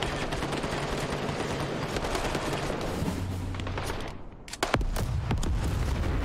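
A grenade blast in the war game Call to Arms erupts amid continuous loud gunfire and rumbling battle noise, with a brief dip before sharp bursts resume.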